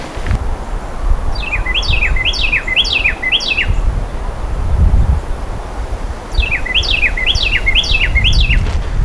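A mother bird near a garden tunnel gives two bursts of rapid, repeated chirps, a run of about five notes each, clear above steady rustling wind and low outdoor rumble.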